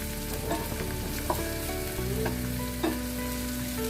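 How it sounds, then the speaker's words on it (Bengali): Chopped onion and ground spice paste fry in mustard oil in a frying pan, a constant close sizzle with the occasional scrape and tap of a stirring spoon and no voices. "ভালো করে পেঁয়াজ এবং মশলাগুলো ভেজে নিতে হবে"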